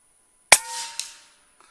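A Kalibrgun Cricket 9mm air rifle fires a single sharp shot outdoors at a target 68 yards away, with a short ringing decay and a faint distant impact just after.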